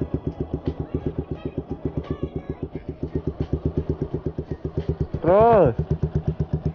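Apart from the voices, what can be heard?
manual clutch motorcycle engine revving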